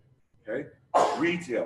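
A single sharp human sneeze bursts out close and loud, followed right away by someone talking.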